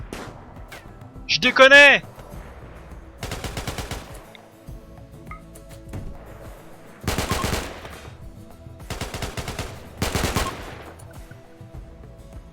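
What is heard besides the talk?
gunfire from an enemy in RimWorld video game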